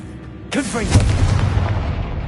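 A Confringo blasting spell in Hogwarts Legacy lands with a sudden loud boom about half a second in, followed by a rumbling, crackling explosion tail that sustains to the end.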